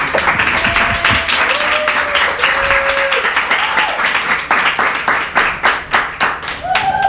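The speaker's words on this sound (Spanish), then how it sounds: "quiero pedirles un fuerte aplauso para ellas" An audience at a talk on gender relations in the student movement applauds, a loud, dense burst of clapping that continues steadily and thins to scattered claps near the end, with faint voices briefly audible underneath.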